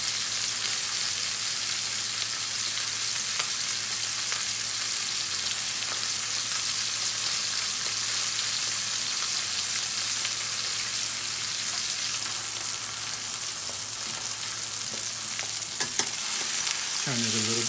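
A T-bone steak fries in a pan with a steady, close, continuous sizzle, broken by a brief clatter near the end as it is turned.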